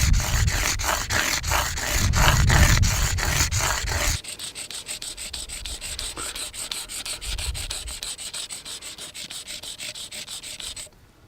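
Steady rubbing and sanding as material is removed while shaping a piece of prehistoric-style jewelry, a dense close abrasive scrape with a regular stroke rhythm, heavier for the first few seconds and then lighter and thinner.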